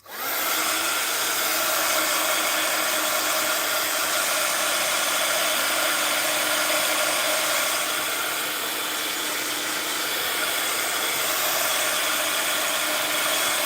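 A hair dryer blows steadily on wet paint on a craft project, a loud continuous whooshing hum that starts abruptly and holds close and unbroken, with no talking.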